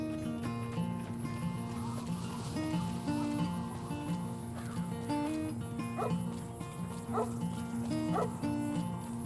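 Dog barking in the Fallout: New Vegas video game around Goodsprings: a few short barks near the 6–8 second mark, set over steady game music and ambience.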